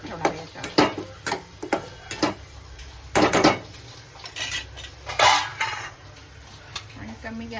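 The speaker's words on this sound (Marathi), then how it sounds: "झाकण ठेवणार आहे याच्यावर." A metal lid is set onto a pan of onion zunka cooking over low heat, with a series of sharp clattering clinks and knocks of metal on metal, close and fairly loud, spread unevenly across the clip.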